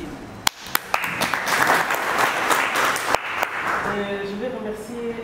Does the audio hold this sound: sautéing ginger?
no